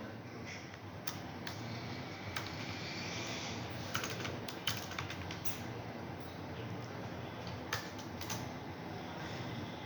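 Python code is typed on a computer keyboard: faint, irregular keystroke ticks sit under a steady, loud background hiss.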